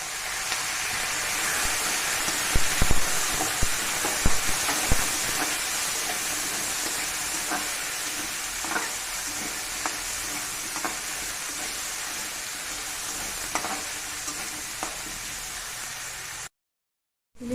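Potatoes fry for khutariya, an Assamese dish, in a pan with green chillies, giving a steady, dense sizzle and hiss throughout, broken by occasional sharp clicks and scrapes of stirring, before cutting to silence at the end.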